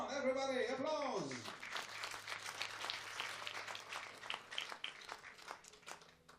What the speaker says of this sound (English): Come on, everybody, applause.